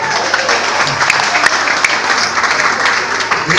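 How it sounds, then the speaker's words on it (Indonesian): Loud, dense audience applause for a participant during a church sermon gathering, steady clapping from a crowd with scattered sharper claps throughout. "Tepuk tangan buat Karan"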